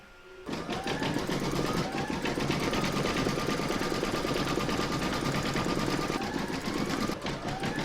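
An embroidery sewing machine stitches a design onto vinyl in the hoop with dark brown thread, a fast, steady mechanical chatter that starts abruptly and runs loud and continuous for several seconds, with no talk.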